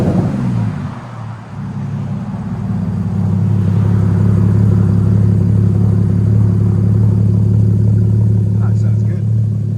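A 2015 Porsche Cayman with a 2.7L flat-six and Vibrant bottle resonators revs up, its exhaust note dipping briefly then rising to a loud, sustained drone close by.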